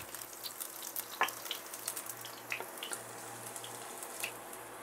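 Garlic sautés in hot oil with a faint, steady sizzle and scattered soft pops and spatters, while a low hum runs underneath.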